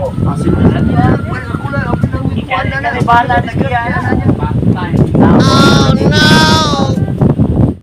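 A goat bleating loudly and close by, several quavering cries coming in a run over a rumble of wind and outdoor noise, with voices talking at times.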